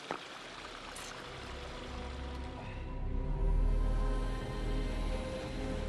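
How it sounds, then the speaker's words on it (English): Glacial meltwater rushes and gurgles continuously in a stream in Alaska, a steady broadband wash that swells louder midway, with no voices. "there's some meltwater that comes in these streams"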